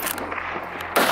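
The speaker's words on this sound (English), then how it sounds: "Wasting no time, I raised my rifle and fired." A single rifle shot fired at wild boar on farmland cracks sharply near the end, preceded by steady rumbling outdoor background noise.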